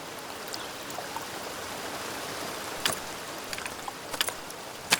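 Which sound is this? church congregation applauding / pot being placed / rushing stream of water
rushing stream of water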